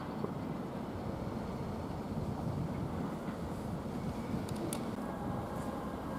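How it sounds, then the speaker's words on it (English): A train moves through Romford station, a steady broad rumble with rail noise and wind buffeting the microphone, continuous and fairly close, with faint high squeals near the end and no voices. "Now we've got train movement here."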